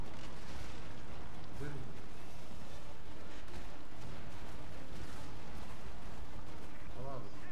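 Tanks and soldiers firing on the player in the game Prototype, dense rumbling bursts of cannon and gunfire under continuous battle noise, with someone speaking briefly over it.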